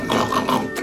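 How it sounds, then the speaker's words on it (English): A pig gives a quick run of close, loud oinking grunts, three or four squeals packed into under a second. "It says oink, oink, oink, oink, oink."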